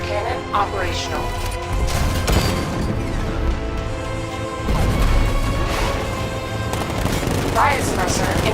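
Rapid heavy tank cannon and gunfire blasts pound continuously in Batman: Arkham Knight, layered with game-style mechanical effects and a steady low rumble throughout.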